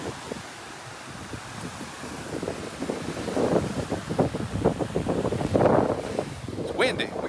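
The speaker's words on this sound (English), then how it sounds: "It's windy. We got a homemade dead cat on the microphone." Wind buffets a microphone fitted with a homemade furry windscreen on an ocean beach, a steady rumbling rush that swells louder in gusts over faint surf.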